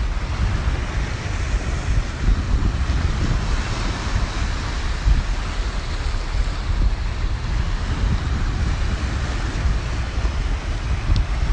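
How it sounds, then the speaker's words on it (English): Waves wash continuously against the shore of Lake Sevan in Armenia, a steady broadband rush mixed with wind buffeting the microphone, no voices. "It's the sound of these waves that are so healing."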